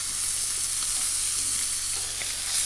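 A steak frying in a hot pan, a steady loud hiss and crackle of sizzling fat that runs continuously without pause, close up and alone with no talking.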